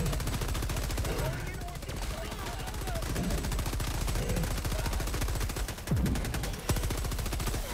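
Automatic gunfire in the Helldivers 2 video game hammers in rapid, continuous bursts, with a few heavier shots toward the end and a voice talking underneath.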